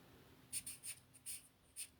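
Hand writing with a pen on paper, a series of short crisp scratchy strokes in quick succession, quiet and close, with no talking.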